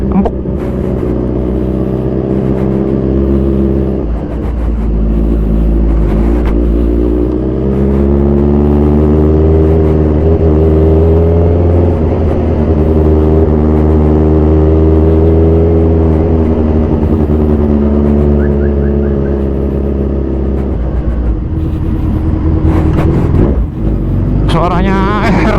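2014 Kawasaki Z1000 Sugomi motorcycle with a fully modified exhaust, its engine droning and rising through long revving sweeps, loud and close throughout, with a voice heard now and then.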